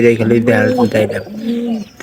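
Pigeons coo in a loud, close, throaty run of repeated coos in a loft where pairs gather nesting straw. No one talks.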